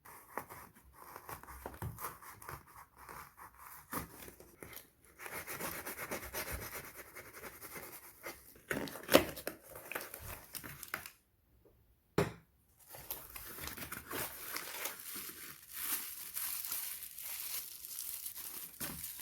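Cube puzzle packaging is opened by hand, with soft crinkling, rubbing and tearing of wrapping material in irregular bursts, quiet and close, broken by a short silent gap midway.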